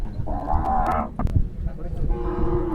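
Gir cattle at a livestock show mooing, two loud drawn-out calls close by, one early and one late, amid crowd noise.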